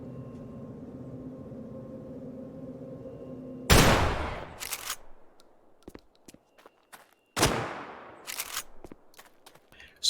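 Two loud Model 1887 shotgun blasts fired at a shooting range in the video game Dead Matter, spaced a few seconds apart, each followed by a long echoing tail, over a quiet low hum at first.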